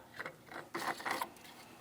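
A cap is screwed onto the coolant reservoir of a 2007–2014 Ford Edge 3.5L, making a few short, close plastic rubbing and ratcheting turns in quick bursts, quiet and with no voices.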